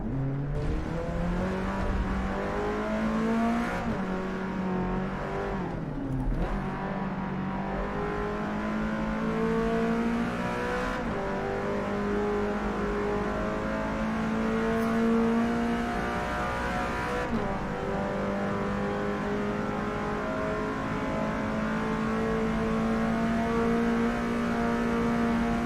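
A 1972 race car engine in Forza Motorsport revs loud and close through a long series of downshifts, pitch climbing and dropping again and again, with brief gaps where the throttle lifts.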